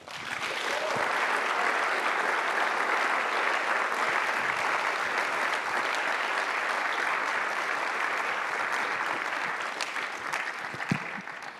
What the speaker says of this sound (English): Could we please have a massive round of applause to our 2 speakers today?